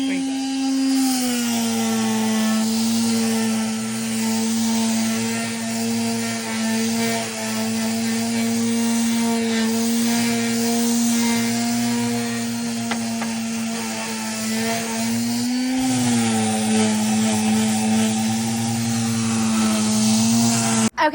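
A power sander works on camper RV cabinets with a steady, droning whine that holds near and loud for the whole stretch, dipping briefly once before carrying on.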